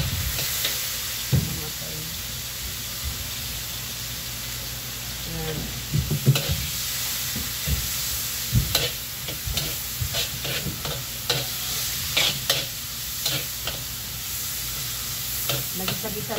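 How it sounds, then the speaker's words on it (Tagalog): Onions sauté in a hot pan for sweet and sour fish, a steady close sizzle broken by repeated clanking and scraping stir strokes that grow busier toward the end. "Nagisa-gisa na natin yung sibuyas."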